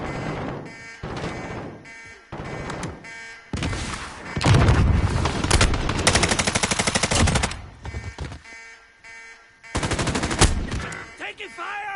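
Rapid automatic gunfire in bursts of varying length, loud and close, separated by short gaps and quieter stretches, with a buzzing electronic tone mixed in.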